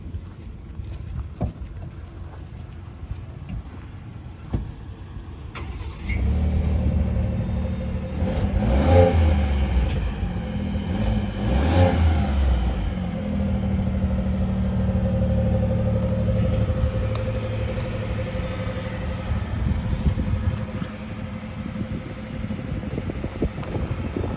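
A 2025 Ford F-150 XLT pickup with a 3.5L V6 idles, then fires up and revs hard in a couple of deep surges before settling into a loud, rumbling idle.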